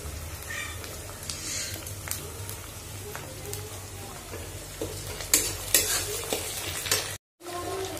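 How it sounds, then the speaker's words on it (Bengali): Ginger-garlic paste, tomato and green chili fry in a pan while being stirred, giving a steady close sizzle with spatula scrapes and clinks that grow sharper near the end, cut by a brief silent gap. "এগুলো ভালো করে ভাজা হয়ে যাবে।"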